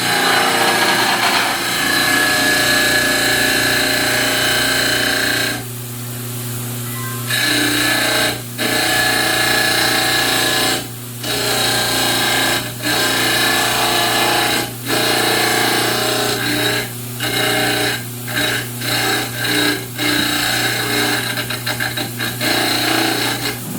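Dental model trimmer grinding a denture cast, a steady loud whirring grind with brief dips and gaps as the cast is pressed on and lifted off, close up.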